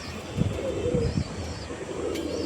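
Domestic pigeons kept in pairs for tournament flying coo softly in a few low, rolling pulses close by, over a steady background hum without talk.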